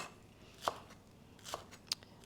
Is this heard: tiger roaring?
no